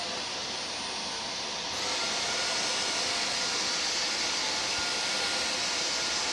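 A Dyson Omniglide cordless vacuum cleaner runs on carpet with a steady, loud motor whine and airflow, stepping up in intensity after a couple of seconds and then holding constant with no talk.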